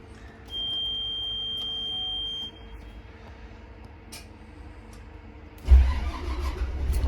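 Car started with the key: a steady electronic warning tone first, then a quiet pause, then the engine cranks and catches, settling into a loud, rough idle up close.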